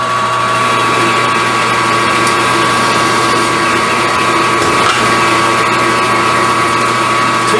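Metal lathe with a cut-off tool parting cold rolled steel bar stock into coin-thick discs, a steady loud machine drone with a constant whine throughout, no talk.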